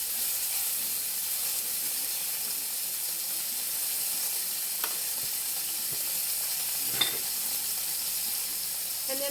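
Sausage and bacon frying in a seasoned Wagner cast iron skillet, a steady close sizzle and hiss with a couple of faint clicks.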